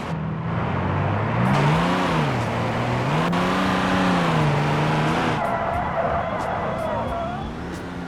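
An upgraded race car engine in a racing video game revs hard and loud, pitch sweeping up and down through several throttle blips, now automatic-transmission equipped, steady and close with a faint tire squeal toward the end.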